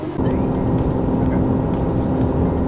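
A Nissan GTR drives along the road, heard from inside as a steady, loud, low engine drone and road rumble that starts abruptly and holds constant.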